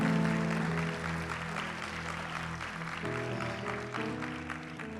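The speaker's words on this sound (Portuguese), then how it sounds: "Um aplauso a Jesus. Applause to Jesus." Church congregation clapping after a call to applaud Jesus during a sermon, a steady faint wash of hand claps with music tones underneath and a brief voice at the start.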